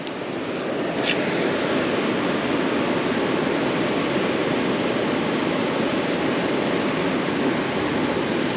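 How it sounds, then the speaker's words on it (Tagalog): A strong river current rushes past a fishing spot, a loud, dense and unbroken roar of moving water that fills the whole stretch, near and steady with no talking. "Lakas ng agos, oh."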